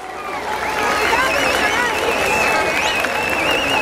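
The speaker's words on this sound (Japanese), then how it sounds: "大きな拍手をお願いいたします。" Applause from a crowd at an Okinawan festival follows a lion dance. Steady clapping builds and holds, with cheers and voices mixed in and whistling tones layered on top.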